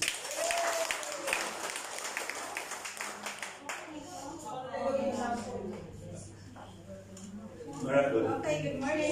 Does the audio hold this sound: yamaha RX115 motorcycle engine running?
no